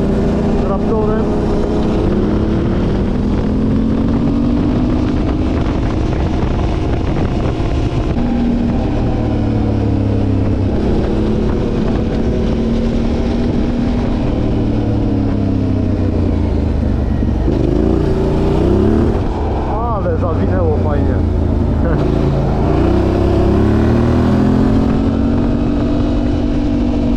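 Yamaha Raptor quad engine revving and droning steadily while riding, loud and continuous with rising and falling pitch sweeps as the throttle changes.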